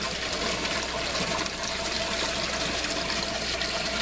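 Water drains through an aquaponics grow tower during a flush cycle, a constant near gushing, splashing flow that runs evenly throughout with no voices.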